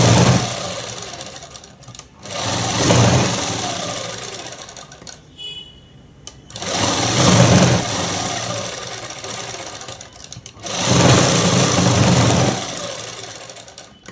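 A sewing machine stitches a French cut dress in three long runs of rapid whirring, each a few seconds long, separated by short pauses, loud and close.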